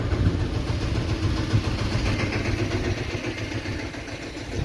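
A tractor engine runs steadily in a village during Holi, giving a loud, continuous low rumble with an uneven idle throb and no voices.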